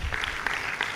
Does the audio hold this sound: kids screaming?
no